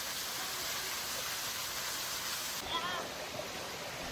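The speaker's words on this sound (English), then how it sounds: "Paa Son is a multi-level waterfall famous for the thick blanket of moss that covers everything along its course." A multi-level, moss-covered waterfall at Phu Soi Dao, Thailand, gives a steady, broad rushing hiss of falling water throughout, with a narrating voice over it.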